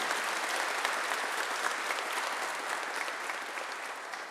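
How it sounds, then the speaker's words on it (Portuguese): A church congregation claps during a homily, dense, even applause from many hands that stays strong and fills the space throughout, with no voices over it. "Uma salva de palmas para os leigos e leigas que acreditam nisso."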